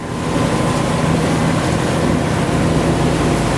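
A motorboat engine runs hard at high RPM on the Pacific near the Las Perlas Islands, a steady, loud drone that holds unbroken throughout with no talk.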